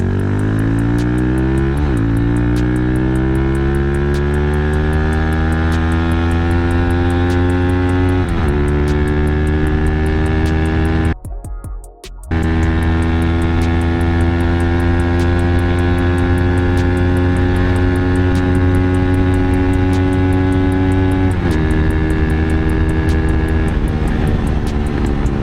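Kawasaki Z200 motorcycle engine revving hard in second gear, a loud, steady drone whose pitch climbs repeatedly through long pulls, broken by a brief cut-off near the middle before surging again.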